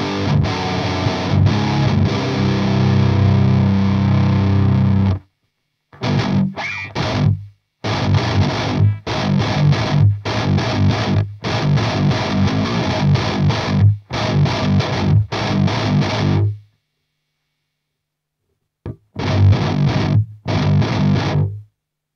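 Electric guitar driven through an Airis Effects Savage Drive pedal into a Victory Kraken amp, loud distorted chugging riffs in bursts with abrupt stops and short silent gaps, no talking.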